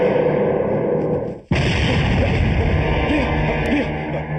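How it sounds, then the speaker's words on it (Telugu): An explosion-style ringtone blares from a cell phone indoors: a loud, dense, roaring burst that cuts out sharply for an instant, then surges back and keeps booming steadily until the end. "బాంబ్ కాదు, నా సెల్ రింగ్ టోన్."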